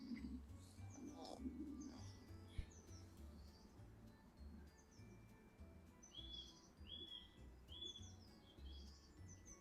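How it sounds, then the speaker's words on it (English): Faint outdoor birdsong, with a bird identified as a woodpecker giving repeated chirps and drawn-out tweets over a quiet low rumble, with one brief knock partway through. "Not sure what bird that is making that long tweet noise."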